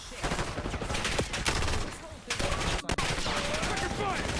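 Rapid gunfire from a Call of Duty: Black Ops 6 Hardpoint match, with bursts of automatic shots mixed with game announcer voice lines and other battle noise, loud and dense throughout.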